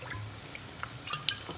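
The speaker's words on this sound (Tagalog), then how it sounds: "Lagay na tayo ng ating suka." Vinegar poured over chicken feet for adobo, a brief thin trickle with scattered drips and splashes, quiet and close.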